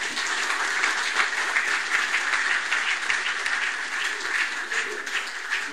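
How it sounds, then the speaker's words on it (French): A crowd at an awards ceremony breaks into sustained, dense applause, with many hands clapping evenly and loudly throughout, with no pause or fade. "On applaudit, on applaudit."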